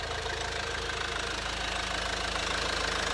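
A Nissan Qashqai 1.5 dCi diesel engine idles close by, a steady, even clatter with a rapid regular knock and a low drone throughout. No one speaks.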